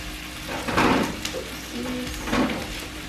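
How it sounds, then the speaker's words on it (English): Onions sizzle steadily as they caramelize in a pan, a close, continuous frying hiss broken by a couple of soft stirring scrapes. "Just gonna let them caramelize just a bit longer."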